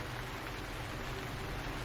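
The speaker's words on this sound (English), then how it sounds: "It has started raining, my God." Steady rainfall makes a continuous, broad hiss with a low rumble underneath, constant in level from start to finish, with no one speaking.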